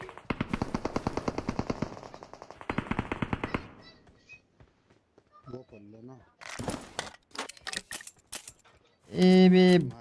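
Bursts of rapid automatic gunfire in the BGMI battle royale game ring out in dense volleys, followed by scattered single shots, with people talking over the action between bursts.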